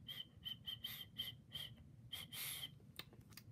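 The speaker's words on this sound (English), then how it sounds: "I'm gonna whistle, guys." A person whistling a series of short, faint, high notes in a quick, uneven rhythm, with a longer note partway through.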